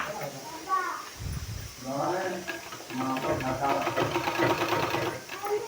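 A sewing machine stitches along both sides of a narrow two-colour cloth strip for a sleeve design, its whirring running in bursts under a woman's speech.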